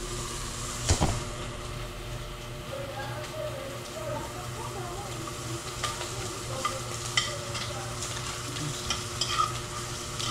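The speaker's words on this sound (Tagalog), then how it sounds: "Magperito na." Food frying in a pan of oil makes a continuous crackling sizzle, with stirring knocks and occasional clinks throughout at a moderate, close level.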